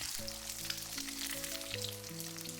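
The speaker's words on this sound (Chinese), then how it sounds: "油温烧热以后，把鸡蛋直接倒在锅中。" Eggs poured straight into hot cooking oil in a wok produce a faint, even sizzle and hiss, quiet and low in level, beneath sustained tonal background music.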